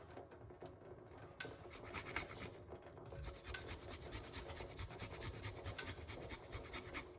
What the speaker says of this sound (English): So we grate a nice little piece of ginger.